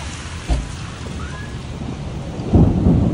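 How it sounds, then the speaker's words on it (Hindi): Steady rain hisses throughout while low rumbles of thunder roll in, one soft early and a louder one near the end, heard during a road trip. "बारिश लगी हुई है और गरज चमकने की आवाज़ आ रही है"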